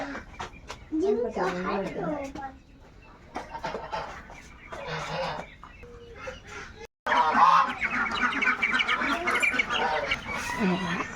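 Geese and ducklings call on a farm in bursts of honking and chattering cries, separated by quieter gaps, with a louder, busier stretch toward the end.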